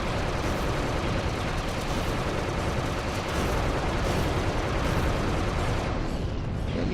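Continuous dense volley of spread gun fire in the Earth Defense Force 2 video game, loud and unbroken across the whole stretch with no talk over it.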